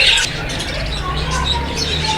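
Budgie parakeets in a breeding setup give quick high chirps and twitters close by, mixed with background murmur and a voice talking.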